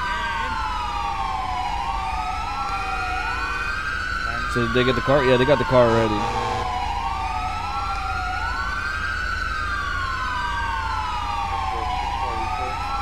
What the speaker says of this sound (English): I'm gonna stand over here because those sirens are a little bit too much.